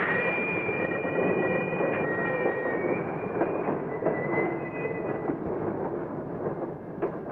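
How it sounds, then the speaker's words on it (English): Freight railroad car rolling and coasting along a yard track, a steady rumbling roll with thin high wheel squeal running over it, close and continuous throughout. "The car stops for a moment and then coasts along at just the right speed."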